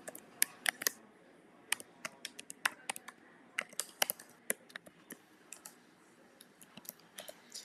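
An email address is typed on a computer keyboard, sharp quiet key clicks in uneven bursts of short runs and pauses, close and isolated with no talking.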